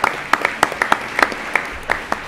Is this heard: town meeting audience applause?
yes